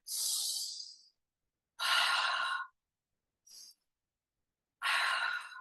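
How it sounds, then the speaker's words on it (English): Slow cleansing breaths, each drawn in through the nose and released out through the mouth, during a chair yoga session: four soft, airy breaths spaced a second or so apart, close and quiet with silence between them. "Breathing in through the nose, exhaling out of the mouth."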